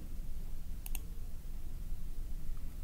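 A pair of quick mouse clicks while navigating Oracle Enterprise Manager 13c software, sharp and close over steady low background hum, with no talking.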